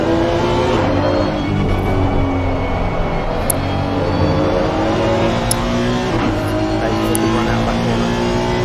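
Race cars running in a close pack of four, engines roaring continuously and loud with overlapping revs and shifting pitches, no voices.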